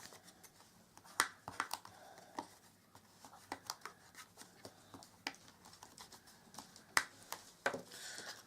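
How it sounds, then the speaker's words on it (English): A bone folder presses down card paper on a handmade gift box lid, making soft, scattered scrapes and light taps, close and quiet with no talking. "I'm just going to press those down with the bone folder"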